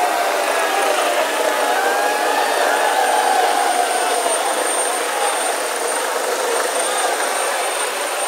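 A helicopter departs from a rally ground, its engine whine and rotor roar holding steady and fairly loud before easing slightly as it moves off, with faint crowd noise beneath.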